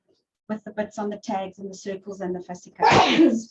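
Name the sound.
sneeze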